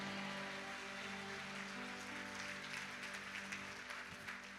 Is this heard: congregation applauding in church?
yes